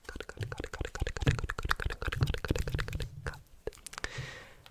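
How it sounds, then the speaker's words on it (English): Cards are riffled and shuffled repeatedly up close, rapid crisp flutters in bursts, with a voice speaking along between them. "Shuffle, shuffle, shuffle, shuffle. And shuffle, shuffle, shuffle, shuffle."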